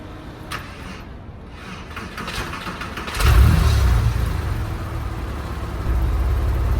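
A Porsche 911 engine, warm rather than cold, hesitates through a quiet stretch, then catches midway into a loud low rumbling idle that steps up in volume near the end.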